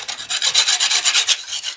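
A metal spatula scraping clay off bricks outdoors, a quick run of rhythmic rasping strokes, close and fairly loud with nothing else heard.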